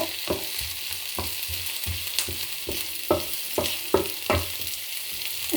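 Vegetables with garlic and onion stir-frying in a hot pan, a soft continuous sizzle broken by repeated rhythmic scrapes and clacks of a spatula tossing the food, close and fairly quiet, without talking.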